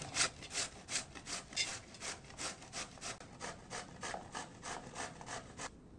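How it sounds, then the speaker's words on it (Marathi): Bottle gourd with its skin on rubbed against a hand grater in fast, regular back-and-forth strokes, about three per second, close and rasping, with no talking. "आता हा जो दुधी घेतलाय तो पण मी याच्यात खिसणार आहे"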